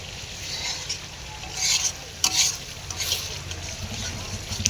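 Spiced masala for chicken frying in oil in a pan, a soft steady sizzle with a few louder bursts of stirring and scraping, fairly close and without voices.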